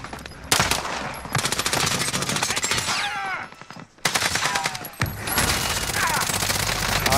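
Rapid automatic gunfire rattles in long, dense bursts in a Warzone battle royale match, loud and close, with brief gaps between volleys and faint whooshing effects in the background.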